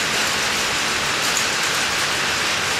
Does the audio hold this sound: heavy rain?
yes